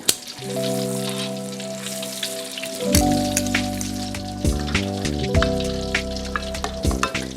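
Fresh coconut cream stir-fried in a pot for Thai lon with fish, sizzling and crackling loudly once it hits the heat, with scattered popping bubbles and a few tapping stirs of a utensil.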